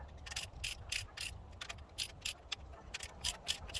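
Ratchet clicks in quick bursts while rocker arm bolts on a Ford Ranger 4.0 engine are snugged down from the center outward, close and fairly faint over low background rumble.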